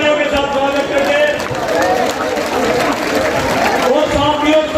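Crowd at a farmers' protest gathering on the Tikri Border claps loudly, a steady dense wash of applause and noise with voices mixed in throughout.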